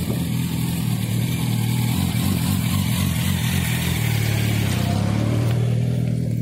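A motorcycle engine running and revving close by, a steady mid-pitched drone with shifting tone as it is ridden, continuous throughout without any voices.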